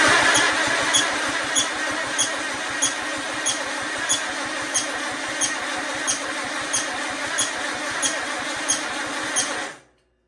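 An Allis Chalmers D10 tractor engine cranks over steadily for about ten seconds with a rapid, even rhythmic chug and faint periodic clicks, loud and close, without catching, then stops abruptly.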